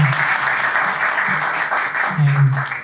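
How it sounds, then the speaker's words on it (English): An audience at a Jewish community lecture applauds in a steady round of clapping, with a voice talking intermittently over it. "Let's give them a round of applause for all the amazing work they did for Hashem"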